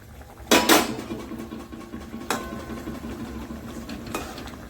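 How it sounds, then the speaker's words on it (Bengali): Fried pieces of katla fish go into a bubbling fish curry with broccoli, marked by a loud metallic clatter of utensil on pot, then a couple of lighter clinks over a steady simmering hiss. "এইবার দিয়ে দেবো ভেজে রাখা মাছগুলো"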